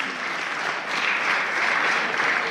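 Steady applause from a conference audience fills the room, a continuous dense patter of many hands clapping at fairly loud level, swelling slightly midway with no talk over it.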